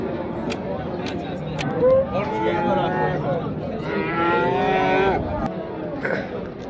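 Cattle at a livestock market, German and Swedish cows, give two drawn-out moos close by, with market background noise and people talking around them.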